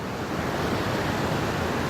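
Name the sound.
river water flowing down from the mountain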